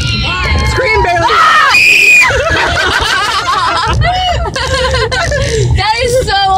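A girl lets out loud, shrill, banshee-like screams on command, sustained and piercing, with chuckles and chatter from others around her.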